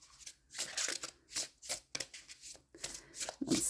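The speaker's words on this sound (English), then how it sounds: "Let's take out the cards gently this time." Oracle cards from an animal deck being handled and drawn out, a run of soft papery shuffles and slides in quick bursts, close and fairly quiet, with no talking.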